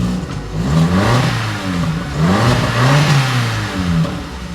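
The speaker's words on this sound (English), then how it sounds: "let's give the car a few revs." A Vauxhall Corsa C track car's engine revved repeatedly through the exhaust, rising and falling in several loud, close blips over a steady low rumble, with no talking.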